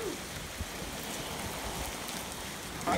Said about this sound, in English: Does it rain like this?